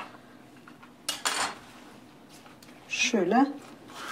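A serrated knife saws thin slices from a red cabbage for pickling: a couple of short rasping strokes close by, with a voice speaking briefly near the end.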